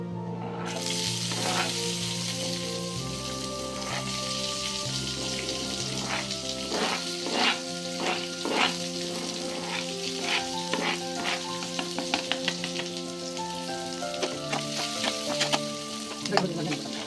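Chopped onions sizzle and fry steadily in hot oil in a pan, tossed with fennel seeds, cinnamon and cloves for a mutton gravy, with occasional stirring clinks and scrapes over a continuous crackling hiss.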